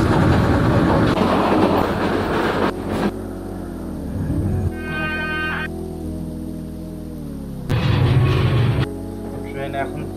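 Rangpur Express passenger train running, heard from inside the carriage as a steady broadband rumble with rail clatter, easing as it nears Sonatala station; people talk over the noise.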